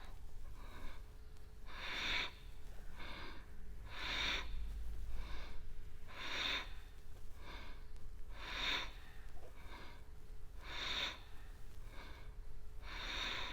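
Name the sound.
loud breathing during yoga flow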